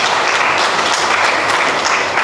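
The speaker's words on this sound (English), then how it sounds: "let's give a big round of applause" An audience at an evening awards ceremony bursts into dense, sustained applause, a loud, even wash of many hands clapping with no break.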